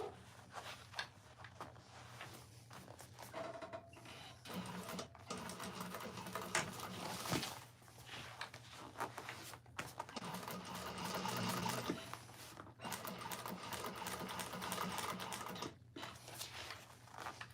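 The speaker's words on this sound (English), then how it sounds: "I'm going to go ahead and top stitch this one." A sewing machine top-stitches a bag lining in bursts of rapid, even needle chatter, close and moderately loud, broken by brief pauses where stitching stops and restarts.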